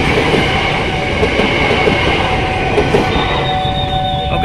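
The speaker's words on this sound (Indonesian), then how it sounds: "ini dia ada 2 nih ya keretanya, arah dari Jakarta menuju ke Bogor dan dari Bogor ke Jakarta" Commuter train on the Jakarta–Bogor rail line passing a level crossing, a loud continuous rumble of wheels and carriages close by with squealing, tonal whines and clacking throughout.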